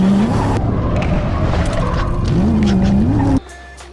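A drift car screeches with tire squeal and a roaring engine, the rising wail sustained for several seconds before the sound cuts off sharply.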